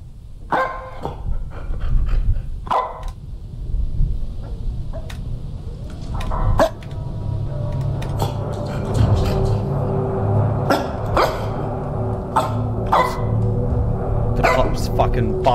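A dog barks repeatedly at a washing machine inside a house, sharp loud barks at irregular intervals over a low steady mechanical hum, with panting in between.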